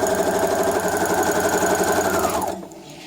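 A sewing machine edge stitches along the top of a fabric face mask with a loud, close, fast mechanical chatter. It runs steadily, then winds down and stops near the end.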